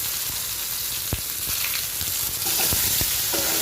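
Potatoes frying in a little oil with bay leaf, dried red chilli and cumin seeds in a home kitchen, a steady close sizzle broken by a few sharp clinks and scrapes of stirring.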